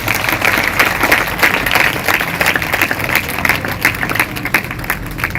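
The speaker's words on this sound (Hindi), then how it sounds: "सभी जोर से तालियां बजाएंगे।" A church congregation at a Sunday service claps loudly and steadily. The dense, even applause fills the whole stretch without letting up.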